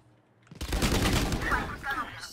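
A burst of rapid gunfire in the shooter game Valorant, starting after a quiet half-second and continuing as a dense rattling stream of shots, with brief speech in the background.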